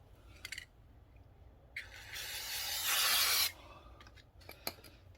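A spray can hisses onto a motorcycle chain in one sustained burst of about a second and a half, close and fairly loud, set among small clicks and handling noises.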